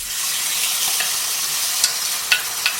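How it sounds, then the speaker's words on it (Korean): Meat stir-frying in a thin layer of oil in a pan for japchae, a steady close sizzle with a few sharp clinks and scrapes of a utensil stirring, no voices. "기름 먼저 살짝 두르셔가지고 고기 먼저 볶을게요"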